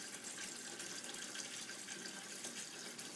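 A cold water tap turned on full, pouring into a sink during home brewing, a steady faint rushing splash that continues unbroken, with no speech.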